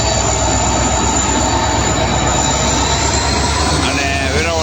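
At Jetpur railway station, the Banaras–Veraval superfast express train rolls in with a loud, steady rumble and clatter close by, and faint wheel squeals come through toward the end.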